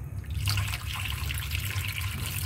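Water poured into a pot of tomato juice while cooking bulanglang, a continuous close splashing trickle that starts after a brief pause and runs steadily to the end.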